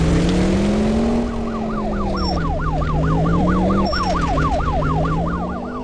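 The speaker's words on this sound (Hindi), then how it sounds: "फ्रैंकलिन काफ़ी तेजी से गाड़ी चला रहा है," Engine of a car driven fast by Franklin in the Indian Theft Auto simulator game, a steady loud drone that rises and falls, with a wailing police siren looping over it throughout.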